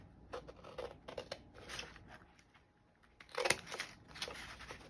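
Scissors snipping through paper while a page wrap is cut for a scrapbook project: several quick bursts of crisp cutting, clustered early and again near the end, close and quiet, with no talking.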